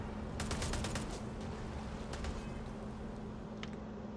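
Bursts of rapid gunfire in a video game, several quick volleys early on and another cluster mid-clip, over a steady low background hum.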